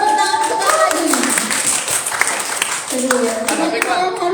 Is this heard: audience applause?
yes